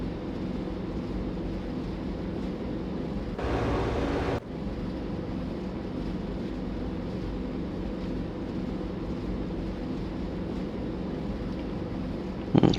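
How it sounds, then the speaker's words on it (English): Aircraft engine running in the video game ARMA 3, a steady droning hum that holds throughout, briefly joined by a louder noisy surge, with no talk over it. "Okay, let's cut that engine."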